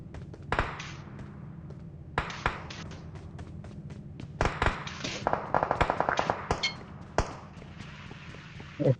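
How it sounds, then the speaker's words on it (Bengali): Gunfire in PUBG Mobile during a mecha battle event: sharp, separate shots and rapid clusters of cracks and clicks over a quiet game background, with no clear talk. "দুইটা গুলি করছি ভাই।"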